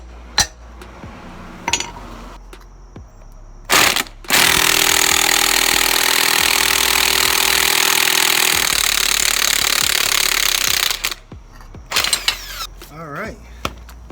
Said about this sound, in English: we're going to hit it off with my impact gun